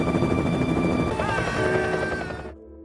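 Helicopter sounding over an uninhabited island during a rescue, a loud, dense rotor roar that holds steady for a few seconds and then cuts off abruptly.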